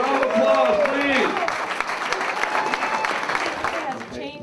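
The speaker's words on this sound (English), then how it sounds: "A round of applause, please." A crowd applauds after a wrist wrestling match, steady dense clapping with voices shouting and cheering over it, loud and continuous before easing off at the end.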